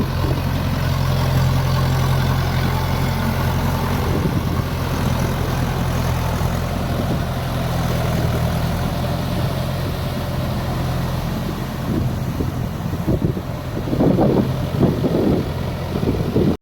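A big farm tractor engine idles steadily in a field used for puddling paddy land, a continuous low rumble that stays loud throughout, with a few faint louder bursts near the end.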